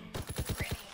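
Rapid automatic gunfire in the Call of Duty WW2 video game, a tight burst of about six loud, evenly spaced shots in under a second.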